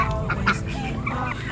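A flock of ducks quacks and honks in a dense, overlapping chorus at close range on a small farm after rain, steady throughout with no speech.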